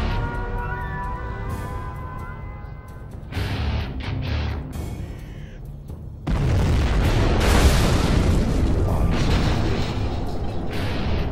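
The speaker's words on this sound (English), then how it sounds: "We have launched our nuclear missile." A nuclear missile strike in C&C Generals Zero Hour builds from a rising launch tone into a heavy, roaring blast that swells loud and rumbles on for several seconds.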